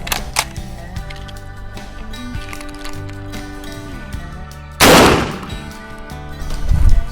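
A Huglu Renova shotgun is test-fired for a tight shot pattern at 10 metres: one sharp, loud blast midway, with a smaller click early on, over steady background music.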